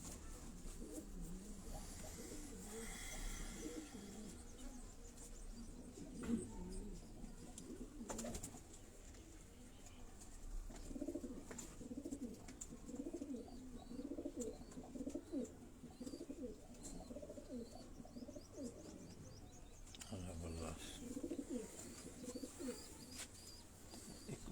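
Pigeons coo repeatedly in low, throaty rolls at a pigeon-keeping gathering in Havelian, Hazara, continuing steadily at moderate distance with faint background noise and an occasional passing car.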